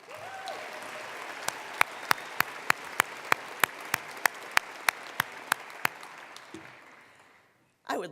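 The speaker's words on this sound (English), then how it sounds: "Let's have a round of applause for our faculty." Sparse applause for college faculty at a state of the college address, a handful of sharp individual claps in a steady rhythm rather than a full crowd, fading out before a brief voice at the end.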